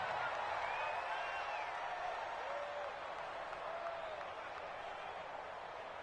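A stadium crowd at a Bears vs Saints American football game keeps up a dense, steady roar with some cheering, heard at a distance with a little applause and faint voices mixed in.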